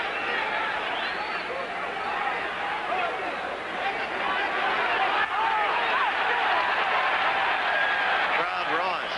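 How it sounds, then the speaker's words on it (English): A boxing crowd at a 1981 heavyweight bout roars half mockingly, a dense continuous babble of cheers and jeers that swells toward the end, with a commentator talking over it. "Crowd roars, half mockingly, as Stevenson gets a call."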